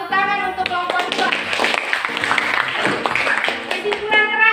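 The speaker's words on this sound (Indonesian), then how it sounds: "Tepuk tangan untuk kelompok 2." Students in a science classroom clap for a student group, a brief burst of hand clapping mixed with a voice talking over it and some tonal sound alongside.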